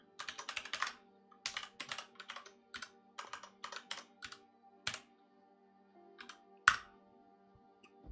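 Typing on a computer keyboard in bursts of quick clicky keystrokes separated by short pauses, with one sharp louder key hit near the end, close and quiet, no voices.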